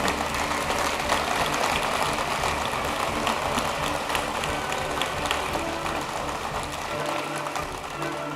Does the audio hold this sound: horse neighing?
no